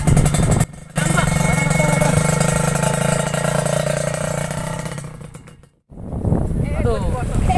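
A motorcycle bought on credit runs while being taken away: a loud, steady engine drone that cuts out briefly, returns, fades, drops out again, then comes back rougher and revving.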